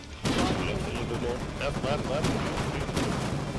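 Anti-tank rifle fire aimed at tank tracks in the video game Foxhole, a sharp loud shot followed by a dense spread of battlefield noise and further reports, with speech mixed in.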